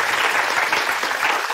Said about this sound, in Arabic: صفقوا لي، الله يخليكم